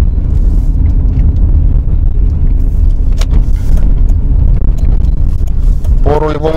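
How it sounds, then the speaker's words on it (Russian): 2006 KIA Spectra driving over a rough, broken road, a loud continuous low rumble of tyres and suspension with occasional knocks and a voice speaking briefly near the end. "То есть даже вот сейчас посмотрим, вот по разбитой дороге проедем."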